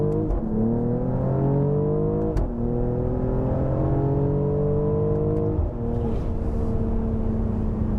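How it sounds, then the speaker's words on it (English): A 2021 Mercedes-AMG GLE 53 exhaust revs loudly and close by in several rising pulls, the pitch climbing and falling back between blips, with a sharp crackle between bursts. "let's see if we can give you an earful of the exhaust here"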